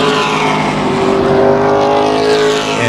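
Late model race car engines roar steadily and loudly throughout a main event at Tucson Speedway, a continuous high-pitched drone with no voices, as if cars are circling close by.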